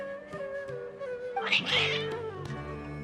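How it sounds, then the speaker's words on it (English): Agitated cat meows from the video game Genshin Impact, a rising whiny yowl swelling in the middle over a soft musical background, close and moderately loud with no talking. "Your cats seem pretty worked up."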